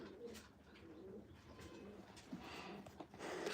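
Pet pigeons coo softly in their loft, low throaty calls repeating amid faint rustling and occasional wing flutters, quiet and close with no talk.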